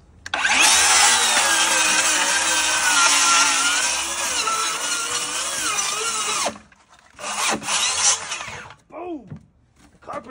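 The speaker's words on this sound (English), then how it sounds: "Just me and my worm drive skill saw by DeWalt." A DeWalt worm drive circular saw rips through wood for about six seconds, loud and close with a steady whining cut, then stops; a couple of shorter bursts and a brief rattle follow.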